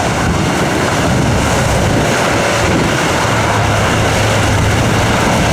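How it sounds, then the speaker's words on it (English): A Mitsubishi L200 pickup grinds along a rough off-road track, its engine droning loud and steady throughout, with a thick wash of rumble and mechanical noise and no pauses. "And now Mitsubishi L200 on the road."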